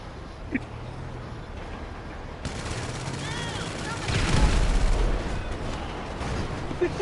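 Tank driving and firing in GTA Online, with a continuous heavy rumble that builds into a louder stretch of booming blasts around the middle, rising and falling tones over the top, and some talk mixed in.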